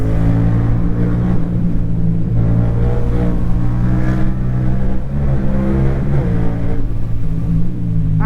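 A Yamaha MT-07 motorcycle accelerates on an open road, its engine note loud and close, holding a steady droning rumble with rising harmonic tones through the stretch and no talk over it.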